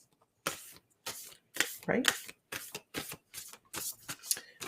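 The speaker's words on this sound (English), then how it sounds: "I've been shuffling these cards for a couple days now." A deck of cards is shuffled in repeated quick riffles, each a crisp fluttering burst separated by short pauses, close up, with a brief spoken word between.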